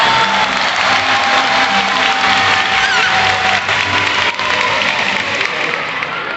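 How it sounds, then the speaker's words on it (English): A crowd in the stands at a SeaWorld orca show applauds in a dense, continuous burst, loud and sustained, with faint cheering mixed in. "Let's give ourselves a round of applause."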